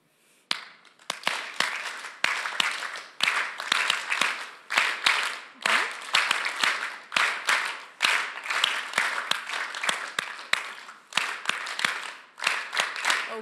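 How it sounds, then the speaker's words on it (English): A live audience claps along in unison at a university lecture, steady rhythmic hand claps repeating roughly every half second for the whole stretch, loud and close with no talking. "please clap along with me"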